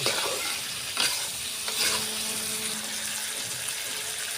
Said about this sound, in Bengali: দিয়ে লাউয়ের সাথে কিছুক্ষণ কষবো, কষে পরিমাণ মতো পানি দিব।